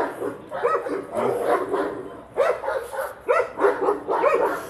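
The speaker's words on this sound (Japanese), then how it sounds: "犬うるせえ犬うるせえ" A dog barks repeatedly in loud, close bursts beside an old ivy-covered building, with short pauses between the clusters of barks and no talking.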